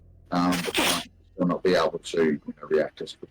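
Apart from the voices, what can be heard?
sneeze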